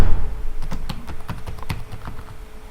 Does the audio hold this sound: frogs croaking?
no